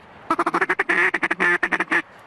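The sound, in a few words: double-reed duck call being blown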